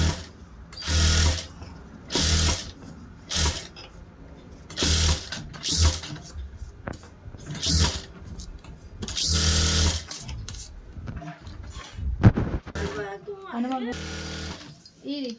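A sewing machine runs in repeated short bursts while stitching a blouse lining with a dummy stitch, each run a few seconds long with pauses between, and a person talks quietly between runs.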